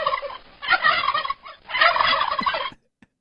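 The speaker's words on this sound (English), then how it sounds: "Those are my gobbles. Those are my turkeys." Turkeys gobble in loud, rapid rattling bursts, two main volleys close by with a short pause between them, then quiet.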